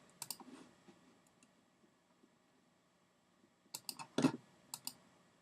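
Computer mouse clicks during image editing: a few sharp clicks near the start, then a quick cluster of close, crisp clicks about a second later in a quiet room.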